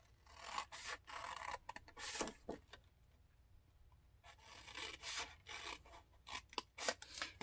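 Scissors snipping through a paper box template along its score lines, a quiet series of short crisp cuts and rustles in irregular bursts with a calmer pause midway, no talking.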